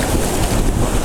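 Wind rushing over the Pacific Ocean shoreline with surf washing around, a steady loud roar filling the whole moment with no talking.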